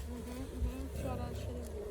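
Honey bees drone and buzz continuously close by during a spring beehive inspection after wintering, a steady dense hum with faint voices in the background.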